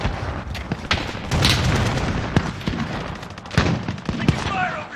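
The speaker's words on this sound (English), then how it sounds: "Taking fire over here." Gunfire in Call of Duty: Modern Warfare Warzone, Payload mode: repeated sharp shots and booming bursts crackle across a dense battlefield din, loud and close, with intermittent voices over the action.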